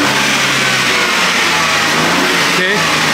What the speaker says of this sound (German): Gib doch mal einen kleinen leichten Gasstoß